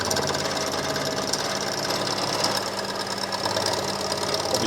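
Harsh, continuous machining chatter as a Porsche piston takes a heavy 3 to 4 mil cut on a lathe, a rough buzzing grind with a steady low hum, close and loud throughout.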